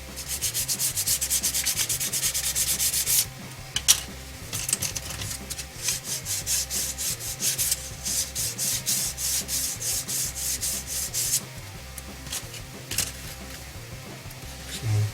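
A small plastic part from a 1:35 MiniArt village diorama kit is rubbed with sandpaper in quick, close, rhythmic strokes that pause briefly and then resume.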